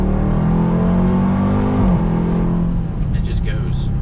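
A 2021 Dodge Durango Hellcat with all-wheel drive accelerates at full throttle, its engine roaring loud and close, climbing in pitch with a brief dip as it shifts, heard from inside the cabin.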